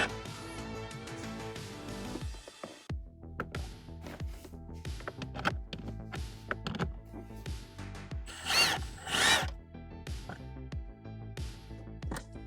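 A power drill backs out small 7mm panel screws on a 2019-2024 Camaro, with short whirring bursts repeated in a stop-start rhythm, close up over light background music.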